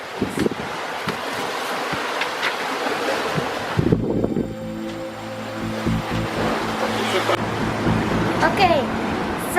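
Ocean waves and gusting wind buffet a sailboat in the middle of the Pacific, a loud, rushing roar with splashes and wind noise on the microphone, and a low droning hum joins partway through.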